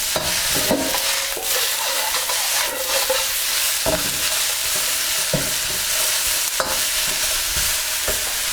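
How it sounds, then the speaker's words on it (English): Beef, carrots, chilies and sesame seeds stir-fry in a hot pan for satay beef. There is a constant loud sizzle, broken by repeated scraping and clattering strokes of the utensil, with no talk. "We just want to stir fry this for about 2 or 3 minutes."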